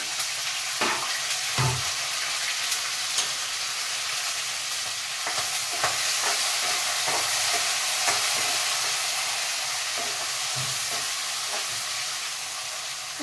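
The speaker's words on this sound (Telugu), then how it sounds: "నూనె అయితే హీట్ అయ్యింది పోపు దినుసులు అయితే వేస్తున్నాను అలాగే అల్లం పచ్చిమిర్చి ఎండుమిర్చి బఠానీలు కూడా వేసేస్తున్నాను" Spices, ginger, green and dried red chillies and peas frying in hot oil, a steady sizzle with occasional stirring clatters, close and moderate, with no talk.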